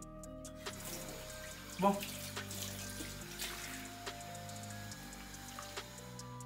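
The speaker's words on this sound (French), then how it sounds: "tout simplement on va les rincer" Running water rinses curly hair, a steady faucet-like stream with splashing and trickling, heard close up. Someone speaks a word briefly over it, and music plays in the background.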